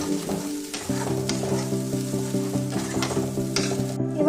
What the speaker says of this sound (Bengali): দিয়ে সমস্ত মশলাকে ভালোভাবে আমি কষিয়ে নেব।